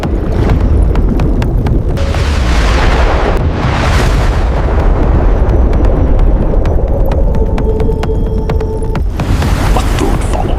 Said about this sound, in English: The first torpedo narrowly missed and slammed into an underwater rock formation.